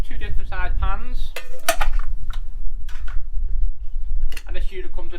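Metal pans from a Trangia camping stove set, two pans of different sizes, clink and clatter as they are handled and nested, in a few sharp, close knocks with short gaps between them.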